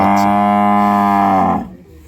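A loud, close moo from a dairy cow at a village home holds steadily for about a second and a half, rich and droning, then cuts off into quiet.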